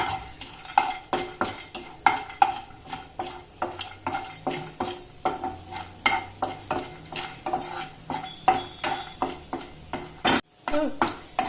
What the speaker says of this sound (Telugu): పాన్ వేడెక్కినాక 1 spoon ఘీ వేసుకొని కాజూ నట్స్ వేసుకొని ఫ్రై చేసుకోవాలి.